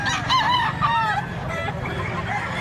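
A rooster crows nearby, a strained, wavering call repeated in quick succession over low background noise, in Mantalungon, Cebu.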